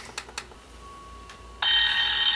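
A Hiluckey digital calendar alarm clock for the elderly starts its alarm after a few soft clicks and a faint tone, a loud, steady electronic ringing that holds without a break.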